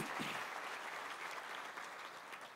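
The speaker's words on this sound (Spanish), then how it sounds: "Dale un aplauso al Señor." Steady applause from a church congregation, moderately loud and continuous throughout, with no voices standing out.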